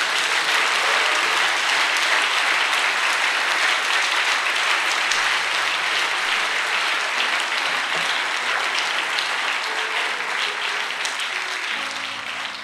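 Sustained, loud applause from a church congregation at a Pentecost seminar, steady dense clapping throughout that tapers slightly near the end.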